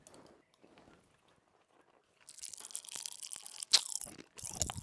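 Loud, close crunching and chewing of fizzy cola-flavoured chewing gum, starting after a couple of quiet seconds and continuing in irregular wet bursts with a brief pause near the end.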